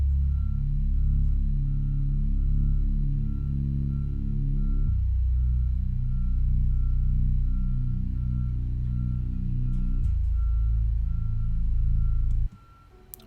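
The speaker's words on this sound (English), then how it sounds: "Last thing I added was a bass, just following the simple root notes we laid down earlier." Smooth sub bass in a melancholic hip-hop melody beat holds deep sustained root notes that shift roughly every five seconds, with a faint repeating higher tone above, then cuts off abruptly near the end.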